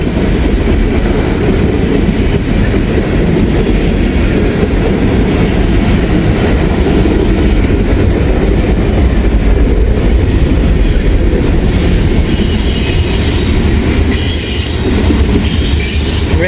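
Freight train passing close by in Kentucky, a loud, continuous rumble of rolling railcars with wheel clatter and high squealing from the wheels toward the end, with no voices.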